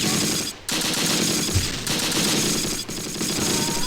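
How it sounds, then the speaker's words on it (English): Rapid, continuous bursts of 2-centimeter flak fire from the Close Combat game hammer on, loud and dense, with brief dips in the barrage. "HQ still firing away, and another hit there. It's gotta be from a 2-centimeter flak."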